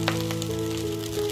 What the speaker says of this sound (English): This is thyme and curry with oil. We're going to fry the rice.